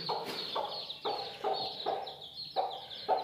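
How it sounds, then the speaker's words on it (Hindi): Newly hatched chicks in a village in Punjab, Pakistan, give close, repeated calls about every half second, short chirps stacked over a lower clucking tone. "ये चिक्स हैं।"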